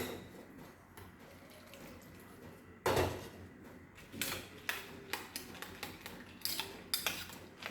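A spoon clinks and scrapes inside a bowl as boondi is stirred into yogurt, giving a faint, uneven series of light taps and scrapes with a louder clatter partway through.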